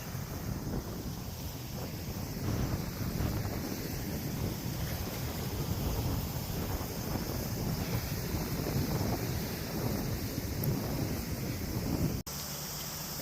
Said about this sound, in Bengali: বাতাসের মিষ্টি আওয়াজ শুনতে পাচ্ছেন